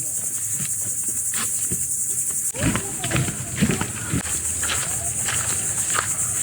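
Insects chirp steadily in a high, continuous band outdoors at a nature preserve, with scattered footsteps or rustling nearby and bursts of movement midway; no one speaks.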